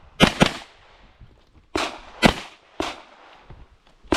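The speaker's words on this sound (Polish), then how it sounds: "Czyli pierwszy strzał." Several sharp gunshots from rifle and pistol practice at a tactical shooting range, in quick pairs and singles, loud and close, with short echoing tails between them.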